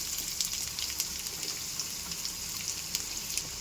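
Chopped onion sizzling in hot oil for kuli paniyaram, alongside chana dal in the pan; a steady, close hiss with small crackles and pops throughout, no talking.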